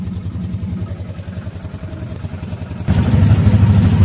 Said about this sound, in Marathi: आता आम्ही जातोय रिक्षामध्ये. प्रतीक भाऊ सोबत.